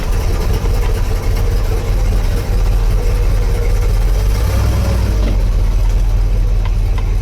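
A Chevrolet Impala engine idles in reverse gear after a new transmission install, a close, steady low rumble with no talking.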